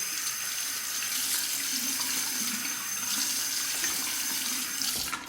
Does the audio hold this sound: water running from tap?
yes